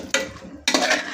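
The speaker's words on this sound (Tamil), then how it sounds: "நல்லா கிண்டி விட்டுக்கோங்க." Two brisk scraping strokes of a spoon stirring salted masala in a pan, each a short rasping burst with a soft sizzle between them, close and fairly loud.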